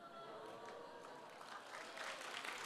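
Brief scattered clapping from a congregation during an all-generations church service, faint and fairly even, swelling slightly toward the end.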